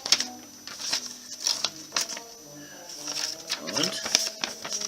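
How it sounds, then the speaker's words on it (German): A Spyderco Endura 4 folding knife with a full flat grind slices through paper, giving quick rasping strokes that repeat in a steady rhythm, close and fairly faint, with someone speaking German softly underneath. "Wollen wir mal schauen, wo wir hier so ein bisschen Papier geschnitten kriegen."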